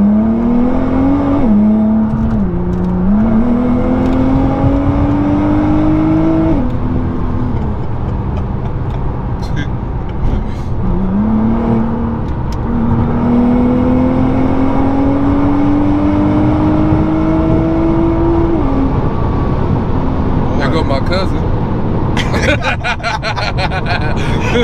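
A Nissan GT-R sports car revs repeatedly, its engine pitch climbing in long sweeping rises and dropping between pulls, with people chatting and laughing nearby throughout.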